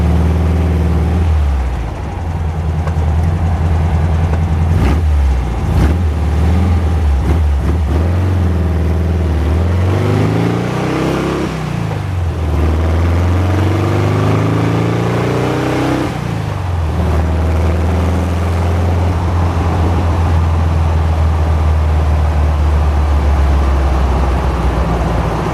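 A 1970 VW Manx-style dune buggy with a single-carburetor 1600 engine, 4-speed and Stinger exhaust runs close by, loud and raspy, rising and falling through several revs and gear changes over a steady drone.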